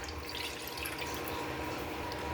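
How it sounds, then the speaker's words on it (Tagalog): Water runs into a cooking pot for pakbet, a steady close rush of pouring that holds evenly throughout without any talk. "Maglagay tayong tubig."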